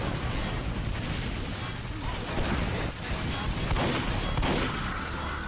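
Team Fortress 2 gameplay with a constant barrage of shotgun blasts and other gunfire mixed into loud, continuous battle noise, with no break in the din.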